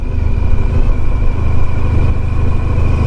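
A 1994 Honda ST1100 motorcycle engine running steadily, a close, even low rumble that holds without a break and has no talk over it.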